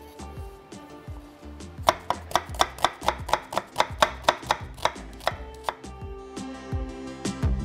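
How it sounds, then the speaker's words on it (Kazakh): A knife finely chops onion on a board in a quick, even run of about a dozen crisp taps, with slower scattered cuts before and after. "Эми пиязды майда туурайбыз."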